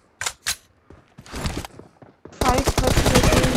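Video game team deathmatch gunfire: a couple of sharp single shots, then a burst, and finally a dense, loud sustained automatic volley close up. No talk is heard.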